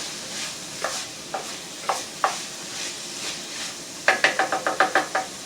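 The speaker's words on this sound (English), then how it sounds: "So I will let this saute for another 3 or 4 minutes" Vegetables sautéing in a pan for meatloaf, a soft background sizzle broken by spaced utensil scrapes and knocks, then a quick run of sharper taps near the end.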